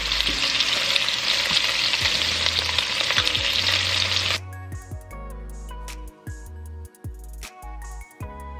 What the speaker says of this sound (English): And we're going to sear our beef until they are brown on both sides.